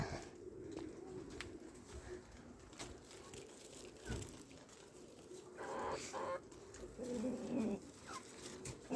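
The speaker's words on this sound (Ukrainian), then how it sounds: "Це курочка." Chicken in a backyard yard clucking and cooing in short repeated calls, fairly faint amid light outdoor background noise and a brief distant voice.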